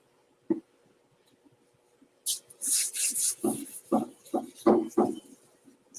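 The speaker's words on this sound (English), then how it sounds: "But hey, Awash, I'm block sanding out this fender for the 68 Mustang." After a quiet moment, a sanding block scrapes back and forth across high-build primer on a 1968 Mustang fender in steady, rhythmic rasping strokes, close by.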